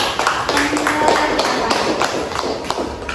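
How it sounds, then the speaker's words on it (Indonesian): A classroom group claps hands together in a short burst of irregular, fairly loud slaps during a school lesson on prayer etiquette. "kasih tepuk tangan dulu"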